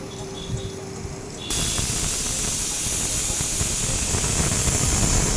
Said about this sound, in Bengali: এরপর আমি কুকারে ঢেলে দিলাম বন্ধ করে দিয়ে দুটো সিটি দিয়ে নেব